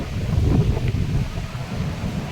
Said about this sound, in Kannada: ಗಾಳಿ ಅಂದರೆ ನಿಲ್ಲಕ್ಕೇನೆ ಆಗೋದಿಲ್ಲ ಶಾಲ್ ಕೂಡ ಸರಿ ನಿಲ್ಲುದಿಲ್ಲ ಅಷ್ಟು ಗಾಳಿ